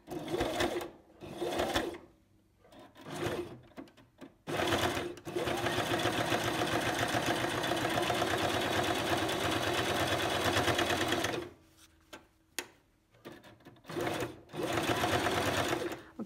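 Sewing machine stitching a standard zipper, running forward and then reverse in several short bursts before one long steady run of about six seconds, close and loud, then a few brief stops and starts.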